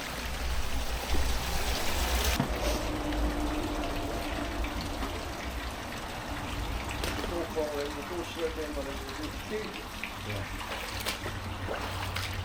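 Water from a garden pond is pumped down a manhole with a steady rushing, trickling flow. A person talks over it, and a faint bubbling gurgle comes through near the end.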